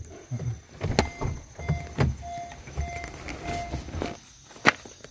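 A car's power window closes with a short electric motor whine, mixed with nearby footsteps and light cabin clatter, fairly close and quiet.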